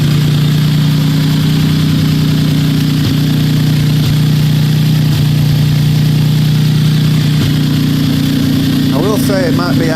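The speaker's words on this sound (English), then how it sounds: "say it might be idling a little bit high." A blue Geo Metro's engine idles after maintenance with a new gasket and air cleaner, running smoothly but slightly high. A steady, even low hum runs throughout, with faint chirping noises near the end.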